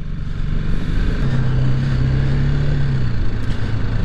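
A motorcycle rides through a city in Japan at night, engine droning steadily close by with a sustained rise in pitch mid-way under continuous road and wind noise, no talk.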